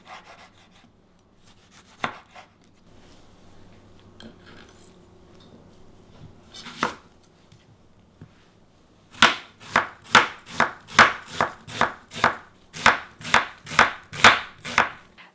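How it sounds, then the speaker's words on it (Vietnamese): Knife slicing tomato and onion into thin slices on a cutting board for homemade beef burgers: a few scattered taps, then a steady run of about fourteen crisp, evenly spaced chops, close and clear with no talking. "Cắt cái phần cà chua và hành tây ra từng lát mỏng."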